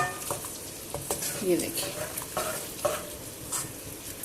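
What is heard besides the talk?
chopped onion frying in a karahi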